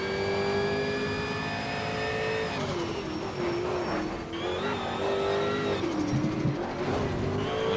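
A Jaguar race car engine in the racing game Need for Speed Shift 2 Unleashed drones loudly and continuously, its pitch falling and climbing again through gear changes as the car races on at night.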